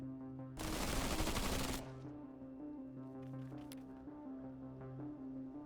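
In the video game ZEPHON, a dense burst of rapid gunfire roars for about a second, loud and close, then drops back to a droning musical or ambient bed with faint scattered clicks.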